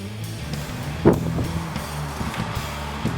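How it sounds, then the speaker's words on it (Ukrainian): A car drives past on a street, a low rumbling motor swelling near the middle and fading, mixed with wind noise and scattered outdoor sounds. "Стоп, назад, машина проехала!"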